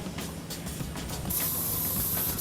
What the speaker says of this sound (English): And again, a little bit of light spray.